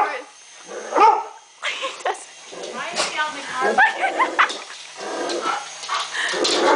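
A dog barks and yips excitedly in a run of repeated, loud, close barks and whimpers, with people talking over it and a helicopter in the setting.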